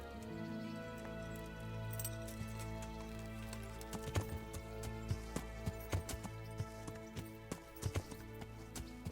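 Horse hooves clip-clop at a steady riding pace in the medieval game Kingdom Come: Deliverance, sharp clear strikes growing more distinct toward the end, with no talking over them.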